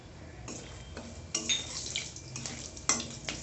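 Whole cumin, black cumin, bay leaves and whole garam masala sizzling in hot oil, with a soft continuous crackle broken by a few sharper scraping stirs of a spoon in the pan.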